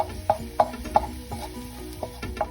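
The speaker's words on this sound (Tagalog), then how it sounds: "Mag-brown lang po tayo ng garlic para sa toppings mamaya." Garlic browning in a hot pan for pasta toppings, a close crackling sizzle under repeated sharp metallic taps and scrapes of a utensil, with no voices.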